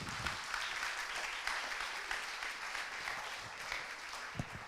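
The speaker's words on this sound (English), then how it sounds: "give them a round of applause" Audience applause at the Thin Blue Paw Awards 2021 ceremony, honouring the sponsor Animal Friends Pet Insurance: a full room clapping steadily and densely throughout, close and sustained with no voices over it.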